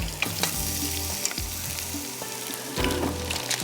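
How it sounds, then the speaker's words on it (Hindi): Parathas frying in a pan, a continuous close sizzle with occasional soft knocks and scrapes, no voices. "फटाफट आपने इसको फ्राई करना है"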